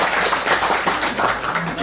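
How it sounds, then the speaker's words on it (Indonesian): Dense crowd clapping fills the clip, a steady burst of many hands applauding together, loud and close, with a voice faintly mixed in. "tepuk tangan dong buat Sidodadi"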